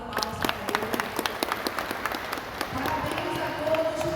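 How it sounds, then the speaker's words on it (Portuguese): An audience at a bacamarte symposium in Caruaru, Pernambuco claps for a speaker: steady applause from many hands at moderate level, easing into a softer wash as a voice comes in near the end. "Uma salva de palmas para ele."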